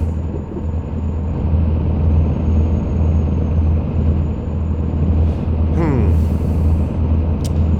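A Mack truck engine in American Truck Simulator drones loudly and steadily while driving, a constant low rumble with a brief rising whine near the end.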